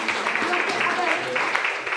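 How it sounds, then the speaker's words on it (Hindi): Audience applause after teachers and trainers are thanked at a DXN product gathering, a steady dense wash of many hands clapping at moderate volume, with voices mixed in underneath. "सबसे पहले उनके लिए एक बार जोरदार ताली"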